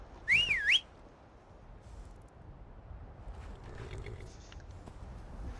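A sharp rising-and-falling whistle to call a horse in Skyrim rings out once near the start, followed by quiet ambient rumble with faint movement sounds.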